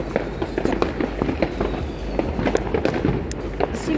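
Rapid crackling pops of firecrackers going off at New Year in a dense, irregular burst, loud and close, with a steady rumble underneath for several seconds.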